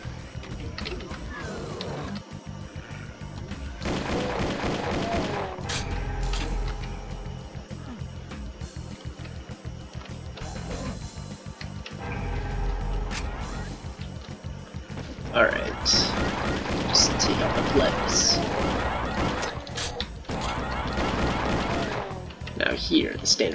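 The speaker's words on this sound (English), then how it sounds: "Shotgun is replaced by a custom shotgun with sound effects mostly done by me" Blasts from a custom shotgun in the game Mars Undying ring out repeatedly amid other in-game gunfire, loud and punchy, while someone talks over the action throughout.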